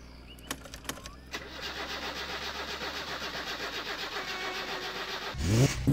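A car engine in the game My Summer Car cranks and starts after a few clicks, then settles into a steady pulsing idle running throughout, ending in a louder rev; no talking over it.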